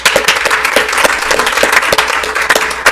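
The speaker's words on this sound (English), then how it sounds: "You deserve an applause," An audience at a governing board meeting breaks into loud, sustained applause, dense rapid clapping from a room of people filling the whole moment with no talk over it.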